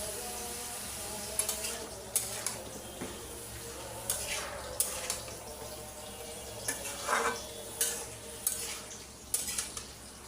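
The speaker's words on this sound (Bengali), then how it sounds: "ডাঁটা আর বেগুন আমি কষায় নিব।" Vegetable stems and eggplant sautéing in a pan for a hilsa fish curry: a low, steady sizzle under intermittent scraping and clinking of a utensil stirring the pan, with no speech.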